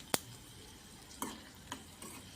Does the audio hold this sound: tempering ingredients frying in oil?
yes